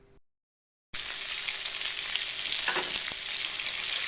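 A fish head fries in a pan, giving a loud, steady broadband sizzle that starts suddenly after a short silence and holds evenly, with a couple of brief clicks from the pan partway through.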